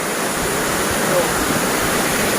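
A steady, dense roar of falling water at Direntha Waterfalls, West Karbi Anglong, fills the air, loud and unbroken.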